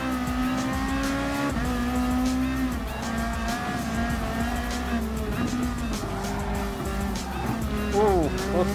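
A Lexus RC F Super GT race car lapping the Suzuka circuit in Gran Turismo Sport, its engine droning and shifting pitch with brief tire squeal, while a voice talks over it.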